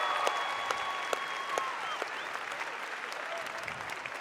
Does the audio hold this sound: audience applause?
yes